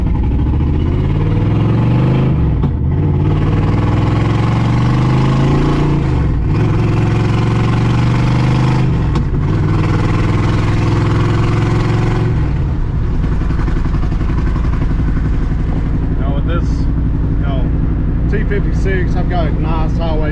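Car engine fitted with aluminum heads and a T56 transmission runs steadily with a deep, loud rumble for twenty seconds, dipping briefly a few times as the throttle shifts.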